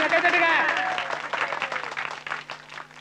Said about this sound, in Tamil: எல்லாம் கைதட்டுங்க